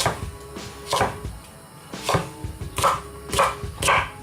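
A knife chops rhubarb into 2-3 cm pieces on a cutting board, giving several sharp, close chopping knocks at irregular intervals.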